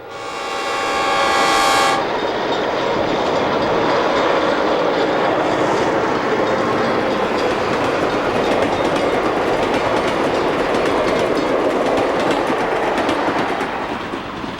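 A passenger train horn blares for about two seconds as it approaches Wayne Junction Tower, then the loud rumble and clatter of the passing train continues steadily.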